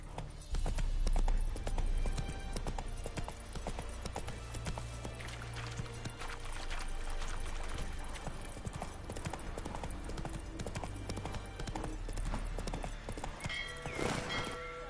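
Roach, a horse in The Witcher 3, clip-clops steadily through a dense game soundscape, hoofbeats continuous and fairly close, with a brief whinny-like burst near the end.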